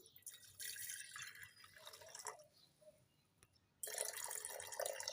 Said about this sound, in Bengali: আমি জারের মধ্যে জল ঢেলে দিচ্ছি আর্ধেকেরও কম জল ঢেলে দিচ্ছি